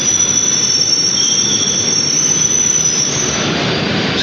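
The Arjuna Express passenger train runs loudly and steadily on its rails, with a constant broadband rumble and a sustained high wheel squeal throughout, heard up close with no one talking.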